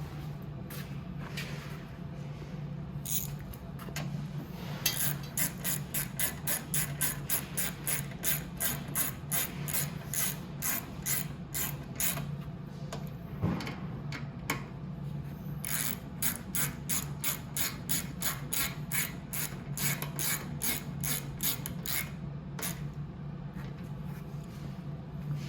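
Ratchet wrench tightening the fuel pump on a Venom X22R Max 250cc motorcycle, a steady run of rapid close clicks that pauses briefly and resumes over a low background hum, without speech.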